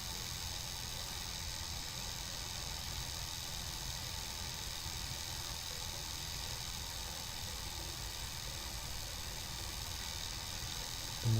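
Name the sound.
small motorcycle engine riding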